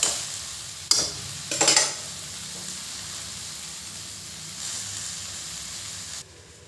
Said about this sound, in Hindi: भिंडी हमारी धीमी आंच में पक रही है